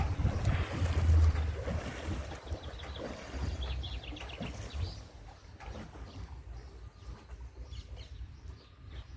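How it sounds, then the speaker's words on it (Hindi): Waves wash against the shore in a green city by the water, with a steady wind buffeting the microphone. The surf is close and continuous, and no one speaks. "लहरें, वाह।"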